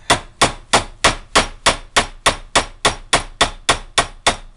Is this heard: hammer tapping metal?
yes